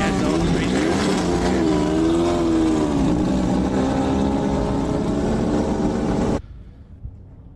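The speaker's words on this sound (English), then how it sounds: "In fact, they're idling out right now as we speak." Limited Buggy 1600 desert race buggies at a short course race run with a loud, steady engine drone that holds for several seconds, then cuts off abruptly, leaving faint background noise.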